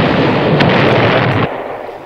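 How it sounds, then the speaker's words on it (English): A dense roar of explosion sound effects rumbles continuously for over a second, loud and close, then drops to a fading, lower tail. "so cue up the explosions."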